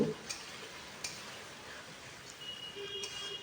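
Chicken being stirred with ginger-garlic masala over raised heat gives faint clinks and scrapes of a spoon against the pan over a low steady sizzle, with a few sharp ticks spaced through.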